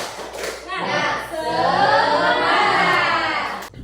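Schoolchildren in a classroom chant together in unison with rhythmic hand clapping, loud and close, their voices carrying a steady clapped beat for about three seconds.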